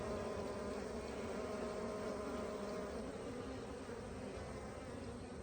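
Honeybees buzz at the front of a hive, a dense, steady swarm drone that holds close and even for the whole stretch with no voices.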